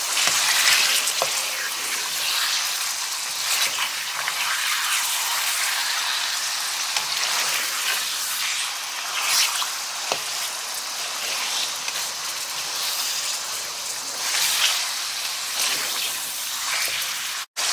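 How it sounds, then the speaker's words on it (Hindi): Chicken pieces fry over a medium flame for Afghani karahi, a steady, close hiss of sizzling oil with occasional pops and stirring scrapes, no talk. "अब हमने चिकन को भूनना है गोल्डन ब्राउन होने तक।"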